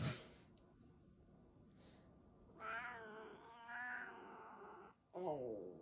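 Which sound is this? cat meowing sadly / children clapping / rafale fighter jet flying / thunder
cat meowing sadly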